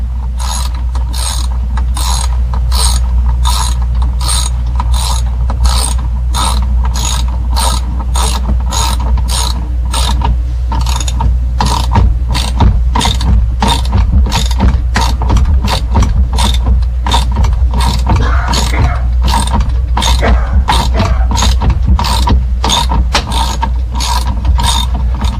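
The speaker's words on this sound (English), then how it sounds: "Put your finger against the socket real tight so you can ratchet backwards." A socket ratchet turns backwards on a car's ignition, giving a loud, steady run of rapid mechanical clicks that continues throughout over a low hum.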